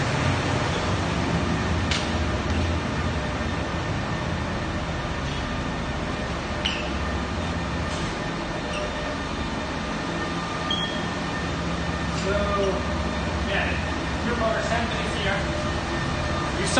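Loud, steady machinery roar fills the new power center of the comma ai office, a dense broadband rumble with a constant hum and a few faint clicks and tonal whines drifting over it.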